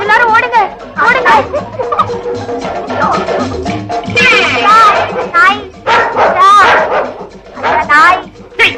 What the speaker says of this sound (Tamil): ஐயோ, இது காட்டு நாய்டி